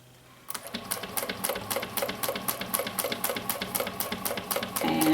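A sewing machine stitches a tote bag in steady rapid bursts, starting after a brief quiet moment and running close and loud to a back stitch at the end.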